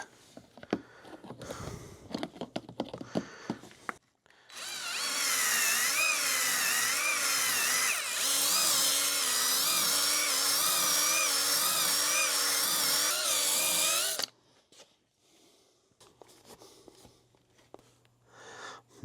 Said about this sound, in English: I'm gonna give this thing a quick hone